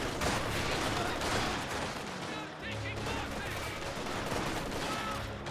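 MG-34 machine gun fire in a Company of Heroes 2 battle: dense, sustained bursts of gunfire mixed with other battle noise, loud and continuous across the whole stretch.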